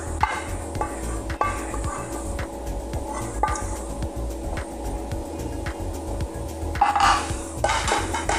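Sautéed string beans, a Filipino dish, being scooped onto serving plates, with steady rhythmic scraping and clinking of a utensil against a pan and dishes, close and clear with no talk.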